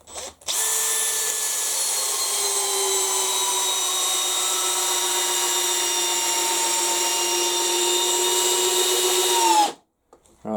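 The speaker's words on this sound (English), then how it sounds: "Let's just try whacking one of these in on the lower gear and see what happens with the hammer drill." A hammer drill on its lower gear drives a fastener in one continuous, loud whine lasting about nine seconds, with steady harmonics that sag slightly in pitch near the end before it stops abruptly.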